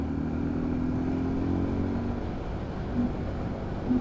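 Suzuki Gixxer 250 motorcycle engine droning steadily under acceleration, a continuous loud hum with a low tone that rises slightly toward the end, heard alone without voices.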